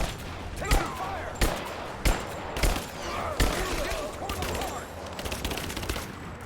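Bursts of gunfire in Rise of the Tomb Raider, several sharp volleys and rapid shots spaced through the stretch, loud and near over a busy combat background without clear speech.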